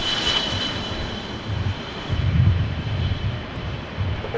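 A jet airliner on its takeoff roll from runway 24 Left at LAX, a steady broadband engine roar with low rumble that swells in the middle, heard from a distance with no talk.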